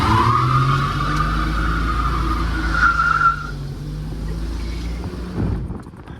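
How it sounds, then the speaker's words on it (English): A 1965 Dodge Dart convertible with a Slant Six engine does a burnout. The tires give a loud, sustained squeal that wavers in pitch under the engine roar, then fades out near the end. "Now some Slant 6s do burnouts."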